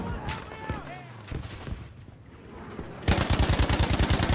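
Rapid gunfire bursts in Battlefield 5 from snipers on a hill, loud and close in a dense rhythmic volley over the last second, after scattered shots, game noise and voices.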